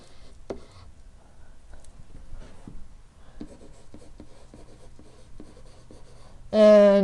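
Pen or pencil writing out a trig equation, a series of soft scratchy strokes in steady rhythm close by, with faint talk in the background and a brief loud burst at the end.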